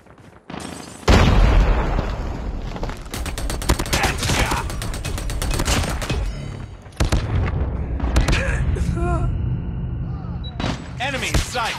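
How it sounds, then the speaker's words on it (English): Call of Duty match on the Nuketown map with a grenade blast and loud gunfire, booming explosions and clattering weapon mechanics running continuously at close range, along with in-game voice callouts. "Grenade out."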